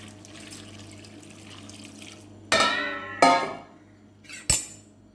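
Water poured into a pressure cooker holding sprouted-legume kootu curry, arriving in three short splashing bursts with brief gaps and a faint clink between them.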